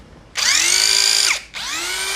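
A disassembled and reassembled Nagawa cordless impact driver whirs up to a high-pitched whine, runs steadily for about a second, winds down briefly, then spins up again.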